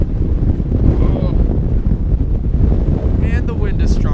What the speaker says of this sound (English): The wind is much stronger here.